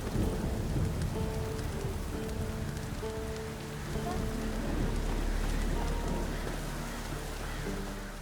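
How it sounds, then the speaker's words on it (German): Thunderstorm with steady heavy rain in The Witcher 3, a constant wash of rainfall with low rolling thunder rumbling underneath, fairly faint overall, with faint game music tones in the background. "Das ist ganz schönes Donnerwetter."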